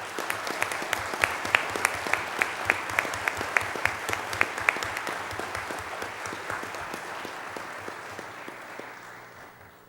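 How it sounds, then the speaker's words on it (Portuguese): Ceremonial applause at a formal municipal council session, a full room clapping steadily with sharp individual claps standing out, then thinning and fading toward the end. "eu peço uma salva de palmas"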